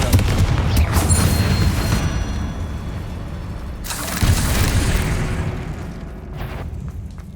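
Booming spell blasts from a Confringo curse in the Hogwarts Legacy video game, a loud burst near the start and another around the middle, each rolling into a dense rumbling tail over game ambience.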